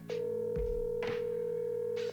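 A telephone line rings during a call to a seller, a steady ringback tone interrupted by a few soft knocks and clicks, with no talking.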